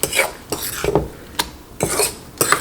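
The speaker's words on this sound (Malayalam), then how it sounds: "ഇതേപോലെ ഒരു ഫോർക്ക് വെച്ചിട്ട് മിക്സ് ചെയ്യുന്നുണ്ടെങ്കിൽ കുറച്ചും കൂടി നല്ലതായിട്ട് മിക്സ് ചെയ്യാൻ വേണ്ടിയിട്ട് പറ്റും" A fork beats eggs in a bowl for a potato and bread fry snack, giving quick bursts of scraping clinks against the bowl with short pauses between them.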